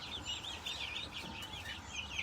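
Turkeys on a farm, a quick run of high chirping calls and clucks repeating over steady low background noise, fairly close and without talk.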